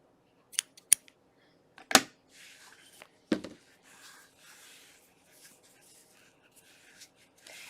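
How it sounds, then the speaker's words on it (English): Scissors snip a crochet yarn tail up close: a few sharp, isolated clicks and cuts spaced over several seconds, followed by faint rustling of the yarn in a quiet room. "fasten off our yarn, trim a little bit of a tail for weaving in"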